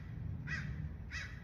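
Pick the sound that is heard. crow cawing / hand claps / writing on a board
crow cawing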